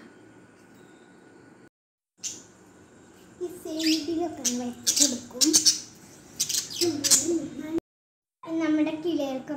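Pet birds chirp and squawk in quick, bright bursts at close range, mixed with voices through most of the stretch, with two brief silent gaps.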